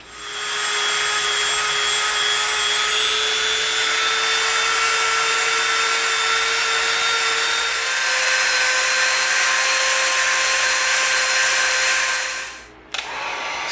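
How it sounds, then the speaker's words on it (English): A Dremel rotary tool rounds the bottom edge of EVA foam with a loud, close, steady high-pitched whine whose pitch shifts slightly under load, then cuts off abruptly near the end. "we're going to get our Dremel out, and we're going to Dremel this bottom edge so it's a rounded corner"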